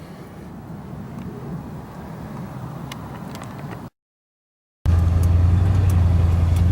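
A 1982 Ford F150 pickup engine idles steadily after a brake wheel cylinder rebuild, a continuous low mechanical hum that drops out briefly and returns louder and closer.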